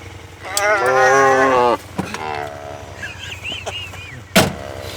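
A cow on a farm lets out one long, loud moo nearby, followed by a shorter lowing call and fainter farm sounds, with a car's engine humming in the background.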